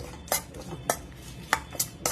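A utensil stirs whole coriander, cumin and chilli powder in a pan for lemon pickle, making five sharp metallic clinks and scrapes at an uneven pace over a quiet background.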